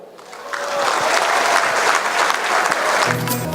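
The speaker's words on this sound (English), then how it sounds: "a round of applause and a big wow" Applause from a crowd swells quickly and holds steady, a dense wash of clapping heard up close for a few seconds.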